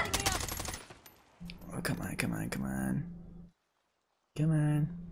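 Rapid automatic gunfire from shooting enemies in Call of Duty Warzone, close and loud in bursts, then a short silence and another burst, with a person shouting over the shots.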